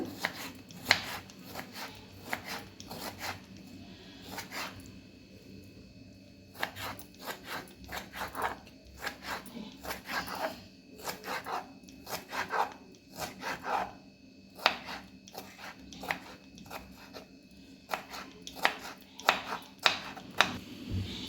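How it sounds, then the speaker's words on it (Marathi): A knife chops tomatoes finely on a board in bursts of quick, light, close taps, with short pauses between runs and a low background hum, no talking. "आता बघा टोमॅटो पण कापून घेऊया आपण बारीक"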